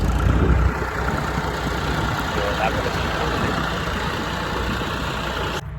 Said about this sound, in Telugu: ఇక ట్రాక్టర్ వచ్చేసింది ఇక్కడికి.